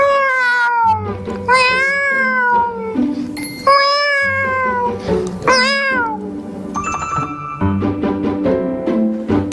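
A man imitates a cat's courtship caterwaul with long, rising and falling wailing yowls and meows, loud and close, repeated in several drawn-out cries with brief breaks.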